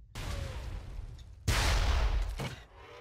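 Gunfire in the blocky shooter game Ace of Spades, a loud sustained barrage with a sharp burst of heavier shots in the middle, fading at the end.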